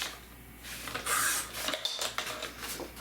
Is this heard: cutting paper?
yes